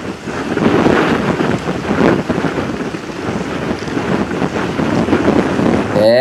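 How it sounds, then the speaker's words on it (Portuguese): Headwind roars across the microphone during a mountain bike race stage at Cape Epic in Africa, a loud continuous buffeting rush of wind noise with no talk. "Agora dá uma olhada nesse vento contra que os caras enfrentaram."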